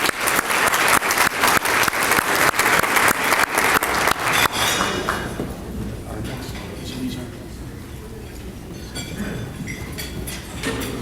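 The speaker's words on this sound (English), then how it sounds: "please give him a round of applause" At a community awards dinner, the audience gives a dense round of applause for an award winner. The clapping lasts about four seconds, then fades into quieter room murmur and voices.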